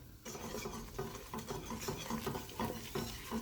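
Bechamel sauce is stirred in a pan, a faint, steady scraping and swishing with soft rhythmic strokes and light clinks.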